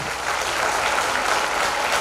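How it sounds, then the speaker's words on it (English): A panel audience breaks into sustained applause, a dense, steady wash of many hands clapping together at close range with no talking over it. "let's give a big round of applause to all the big panelists"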